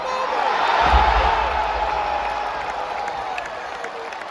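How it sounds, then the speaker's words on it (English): Large arena crowd at a live AEW wrestling show in the LA Forum roaring in a sustained ovation after a suplex, loud and continuous cheering and applause that swells early and then holds steady. "they got the spot off in this match, which got a huge ovation from the crowd here,"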